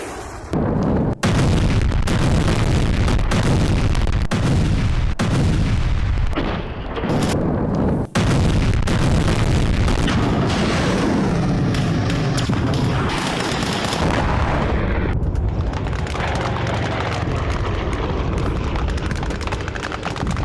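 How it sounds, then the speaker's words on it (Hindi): Heavy artillery fire and explosions from a Russian attack in Donetsk, a dense, sustained roar of booms and blasts filling the whole stretch, with sharp bursts breaking through and no talk. "डोनेत्स्क में रूस ने किया है बहुत बड़ा अटैक"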